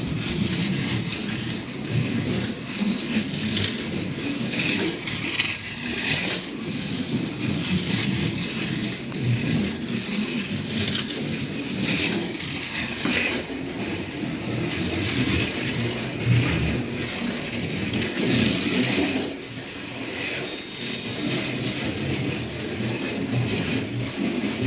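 An NSR Formula One 1986–89 class slot car whines continuously around a track, its small electric motor buzzing and rising and falling as it laps, steady and fairly close throughout.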